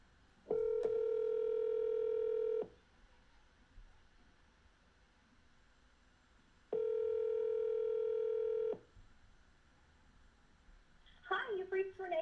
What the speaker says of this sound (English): Let's call Renee and see what she says